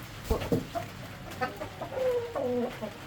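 Leghorn hens clucking near at hand, a cluster of short clucks early on followed by longer drawn-out calls, with no voices.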